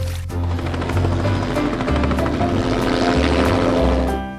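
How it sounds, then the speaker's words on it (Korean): A helicopter's rotor thuds in a steady rhythmic beat with engine whine, loud and continuous throughout, accompanied by background music. "helicopter, 헬리콥터,"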